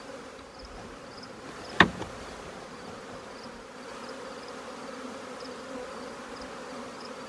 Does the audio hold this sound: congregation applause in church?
no